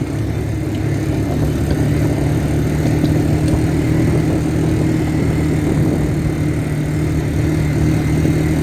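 A four-wheeler ATV engine runs steadily while driving down a road, a loud, constant low drone with rumbling wind noise and no talking.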